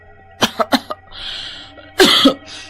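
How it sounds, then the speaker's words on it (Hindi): Four quick, dry coughs in a row, a short raspy pause, then two more harsh coughs close by. "रात को उसको अचानक खांसी होने लगती है"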